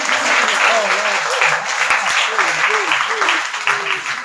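Steady applause from an audience at a Christ Mission church gathering in Agasthya, Thiruvananthapuram, Kerala, holding dense and even for several seconds, with a voice talking faintly underneath.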